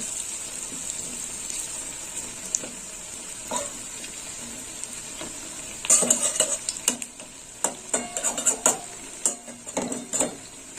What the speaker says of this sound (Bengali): একটু লাল লাল করে ভাজা হবে